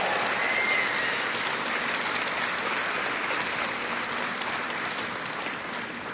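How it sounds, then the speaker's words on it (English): Crowd at a presidential jobs and economy speech in Youngstown, Ohio, applauding in a dense, continuous roar of clapping that holds steady and eases slightly toward the end. "Give them all a big round of applause."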